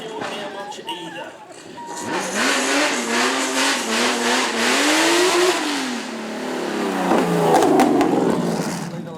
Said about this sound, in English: Probably the loudest car I've heard today.